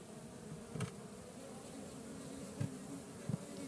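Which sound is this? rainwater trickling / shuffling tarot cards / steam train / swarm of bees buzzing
swarm of bees buzzing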